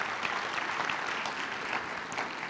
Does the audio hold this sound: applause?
yes